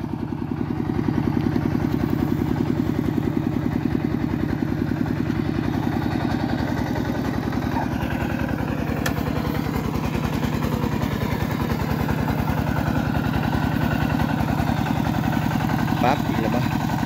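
A tractor engine chugs steadily while plowing a rice field, a loud, constant idling clatter that continues throughout as people talk over it.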